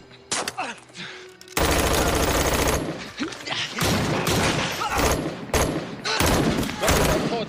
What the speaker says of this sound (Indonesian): Tiba-tiba dia menembak Matt dan juga Pak Sipir